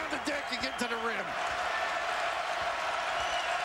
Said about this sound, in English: Crowd back into it.